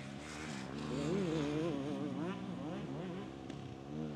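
A dirt bike engine revs hard at a motocross summer camp, its pitch surging and falling in wavering bursts, heard from a moderate distance and fairly faint against outdoor background.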